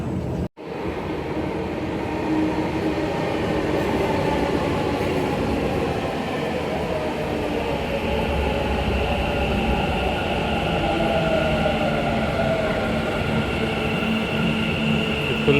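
Bengaluru metro train heard from inside a car, a loud continuous rumble and whine of the moving train with faint wheel noise, steady throughout after a brief dip near the start.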